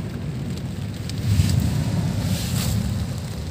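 Strong wind at sea during a thunderstorm, a steady rushing roar with low rumbling buffets and surging gusts, heard close with no talking.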